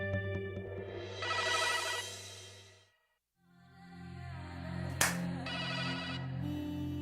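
A telephone ringtone plays two bursts of a tonal electronic melody separated by a brief silent gap, fairly loud and close, with a sharp click near the start of the second burst.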